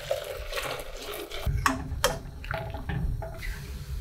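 Cold water poured into a pot of brewed coffee with grounds while making an 1896-style gelatin dessert: a close splashing pour with a few sharp knocks and clinks, without any talk.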